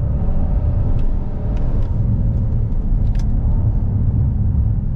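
Inside a 2022 Genesis GV70 sport SUV, a steady deep engine rumble fills the cabin as it downshifts, with faint light clicks over the continuous drone and no speech.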